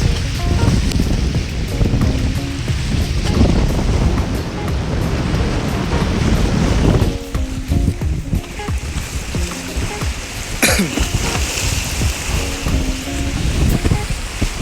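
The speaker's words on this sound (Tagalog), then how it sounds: "ewan ko kung maririnig pa ako ngayon sa sobrang lakas ng hangin" Strong wind buffets the microphone on a beach while waves surge and break nearby in a constant loud roar, with someone talking faintly beneath it.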